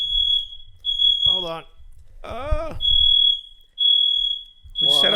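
A building fire alarm sounds a steady, piercing electronic tone that keeps cutting in and out, loud and close, while people talk over and between the beeps.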